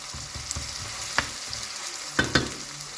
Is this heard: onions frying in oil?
yes